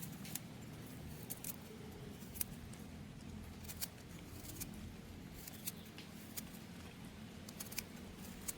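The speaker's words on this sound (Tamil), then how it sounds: "ரெண்டு மூணு உள்ளியும் வெட்டி விடுறேன்" A knife slices two or three garlic cloves for a brinjal milk curry in a village kitchen, making soft, sparse clicks and taps, faint and close, with no talking.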